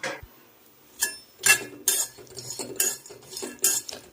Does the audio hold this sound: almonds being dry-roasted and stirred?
yes